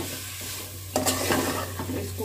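Chopped tomatoes fry with masala in a pan, a steady sizzle over a low hum, broken by a brief scraping stir partway through.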